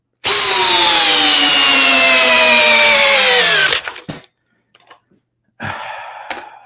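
A Dewalt 40V drill runs hard under load for several seconds, its pitch sagging as it bores, then cuts off, followed by a few clicks and a short second burst.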